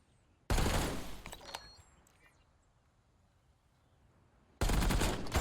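Two loud bursts of gunfire from a shooter video game, one at the start and another near the end, with a quiet gap of faint game ambience between them.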